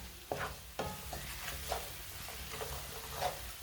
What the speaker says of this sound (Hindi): मसालों को 1 मिनट के लिए भून लेंगे।